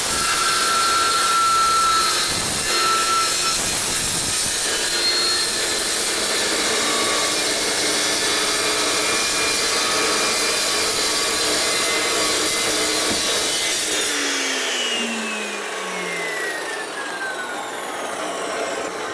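An Evolution 355mm metal cutting chop saw finishes cutting through a steel RSJ beam that is too big for it, a loud, constant grinding whine that cuts off and spins down with a falling tone.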